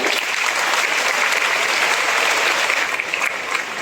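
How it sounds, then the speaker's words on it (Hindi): A large audience claps loudly and steadily, a dense wash of applause with no voices standing out. "इन सब के लिए, अपने लिए, खुद के लिए तालियां जोरदार बजाएं।"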